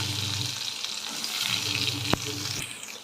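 Sliced beetroot sizzles in hot oil with mustard seeds, green chilli and curry leaves, a steady loud frying hiss up close, punctuated by a sharp clink or two of a spoon against the pan.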